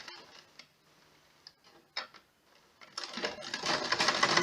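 A sewing machine stitches a fabric face mask in short, quiet bursts of rapid ticking with pauses between, then runs louder and continuously for the last second or so.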